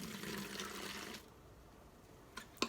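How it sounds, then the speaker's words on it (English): Vinegar poured into a water bottle for a balloon experiment, a steady liquid trickle for about a second, then quiet with a couple of small clinks near the end. "Now you're going to carefully pour the vinegar into the water"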